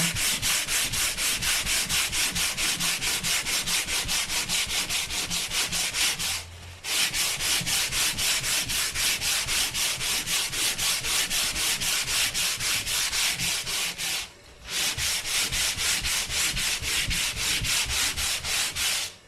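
A wooden ukulele top is sanded down to thickness by hand, a close, rhythmic back-and-forth rubbing in fast even strokes, broken by two short pauses.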